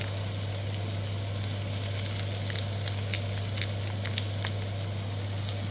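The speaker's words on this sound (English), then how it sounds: "So we need to cook the onion and garlic for 5 minutes." Onion and garlic fry in a pan with a steady, close sizzle and scattered small pops and crackles, and no voices are heard.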